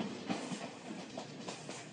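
A train on the Nigerian railway en route to Kano, rolling with a steady broadband rumble and faint rhythmic clatter of wheels, continuous and fairly close.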